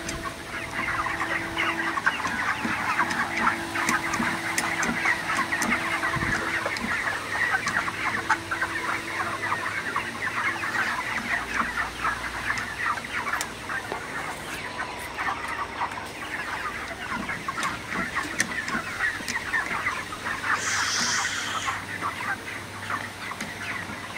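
Ready-to-sell broiler chickens in a farm shed during intense summer heat cluck and chatter as a dense flock, a steady close murmur with overlapping calls that runs unbroken throughout, no voices.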